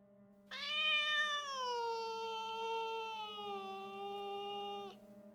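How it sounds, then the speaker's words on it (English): A single drawn-out cat meow inside a house, clear and fairly close, with a steady pitch that slowly falls before trailing off, alone over a faint low hum. "A meow."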